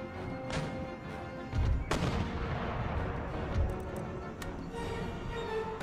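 Mortar and musket fire in the video game Empire Total War during a battle at Lahore, a series of sharp booms and crackling shots, some heavy, over a constant battlefield din.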